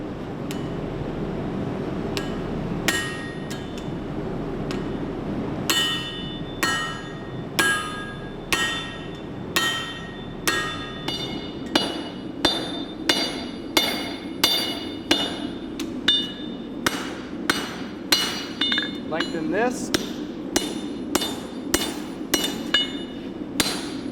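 Hammer blows ring out on a knife blade being flattened during blade forging, a long series of sharp metallic strikes that grow more regular and rhythmic, close and loud over a steady background hum.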